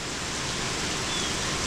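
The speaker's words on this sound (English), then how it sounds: "the rain's starting to subside a little bit" Heavy hurricane rain pours down as a dense, steady, broadband hiss, loud and unbroken throughout with no voices.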